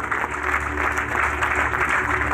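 Church congregation applauds in thanksgiving to God during an offering, a sustained clapping wash over a low steady hum, with no talk on top.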